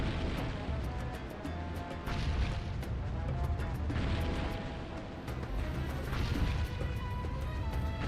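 Continuous loud Super Mario Galaxy 2 action as Cluckboom enemies rain bombs on a sandy planet, with repeated booms, crashes and explosive bursts layered over a dense rumbling background and tinkling music.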